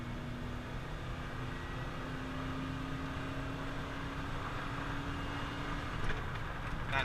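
Vehicle engine drone held at a steady pitch, with a smooth continuous hum and a slight change near the end during a quick downshift.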